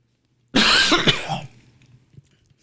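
A single burst of harsh coughing from one person, loud and close, breaking off after about a second and trailing into quiet breathing, with no speech.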